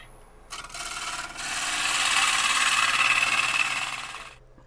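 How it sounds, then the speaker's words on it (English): A gouge makes light cuts on a spinning, highly figured English walnut bowl on a lathe, a steady hissing scrape that swells and fades over a few seconds against a faint motor hum. "Again, taking those light cuts, you're going to get shavings like that."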